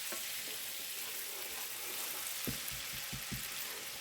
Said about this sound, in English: I'm adding garlic. I'm just going to saute this.